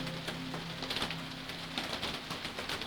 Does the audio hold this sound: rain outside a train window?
yes